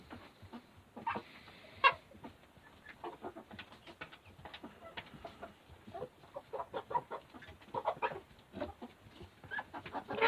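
Chickens cluck softly in a farm pen beside a newborn calf: scattered short clucks and murmurs in an irregular rhythm, fairly faint and close, with no talking.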